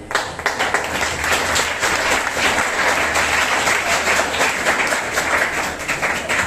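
Students clap loudly and continuously at a junior college welcome ceremony for new eleventh-standard pupils, a dense, even applause that carries on throughout.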